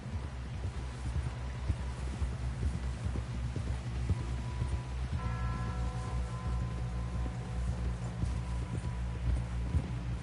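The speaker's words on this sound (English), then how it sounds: "Someone help John down off this horse." Steady clip-clop of horse hooves plodding along at a walking rhythm, with a low rumbling background and a brief tonal hum midway.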